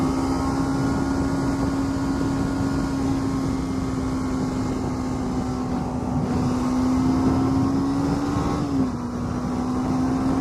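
A Kawasaki Ninja 300 motorcycle cruising on a highway, a loud steady engine drone with constant wind rush that holds one pitch and then dips slightly near the end.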